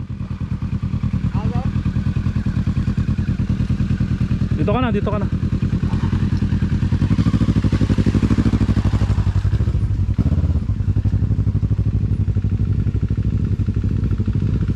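A 450MT motorcycle creeps down a steep, muddy road with its engine braking, a loud, close, rough mid-pitched chug that runs steadily with clattering thumps over ruts, while people shout directions nearby.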